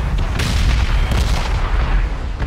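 Bombing-zone explosions in PUBG Battlegrounds rumble and boom in close succession, loud and low, with dense blasts rolling into one another.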